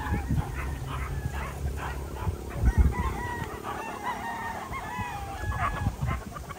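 Chickens on a farm at feeding time cluck and squawk in a busy overlapping chorus, with a rooster crowing and a dog barking nearby, plus a low thump of handling.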